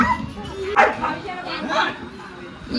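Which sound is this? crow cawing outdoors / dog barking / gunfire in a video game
dog barking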